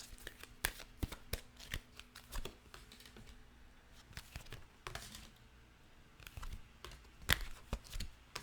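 Soft riffling and snapping of tarot cards being shuffled in irregular bursts, close by and fairly quiet, with no talking.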